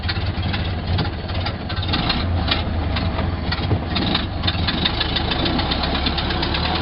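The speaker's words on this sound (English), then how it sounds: "I probably still need to adjust the idle just a little bit on the carburetor." A Ford Model A engine idling with its carburetor idle not yet fully adjusted, a steady loud knocking chug running evenly throughout, heard close with no talk.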